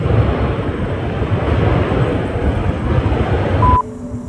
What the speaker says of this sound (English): And then the train.